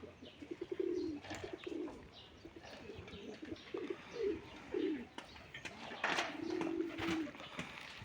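Pigeons on a rooftop coo in several low, rolling bursts that come back at a steady pace through the whole stretch. A few brief chirps are mixed in, with a busy background and no talk.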